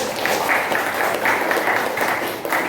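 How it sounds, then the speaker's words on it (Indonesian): A class or audience gives a round of rhythmic applause, with steady, moderately loud clapping carrying on throughout without a break. "tepuk tangan lagi"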